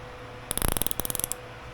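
Drag ratchet clicking on a Daiwa BG 4000 spinning fishing reel, a quick close burst of a dozen or so sharp mechanical clicks lasting under a second, alone over faint background.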